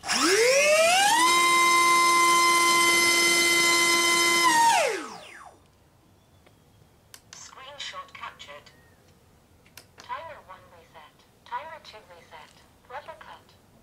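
An electric motor drives a 5 by 4.5 inch racing-series propeller on a thrust test stand, producing a loud, steady whine that ramps up, holds for several seconds, then winds down, followed by quiet talking.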